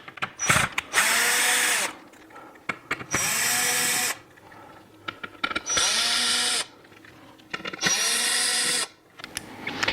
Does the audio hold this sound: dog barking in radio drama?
no